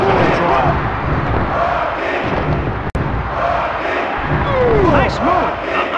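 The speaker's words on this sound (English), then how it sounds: "Listen to this crowd." A packed wrestling arena crowd roars and cheers continuously during a tag-team match, with loud sustained shouting, an occasional sharp thud, and commentators talking over the noise.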